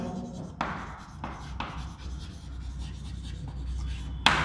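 Chalk or marker writing on a board during a physics lecture on the Bohr model of the atom, with scratchy strokes and occasional sharp taps over steady room noise and a low hum.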